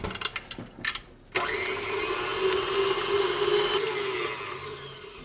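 A stand mixer paddle beats cake batter with added egg in a bowl: a few clattering knocks, then a steady loud motor whir with a sustained tonal hum running unbroken to the end.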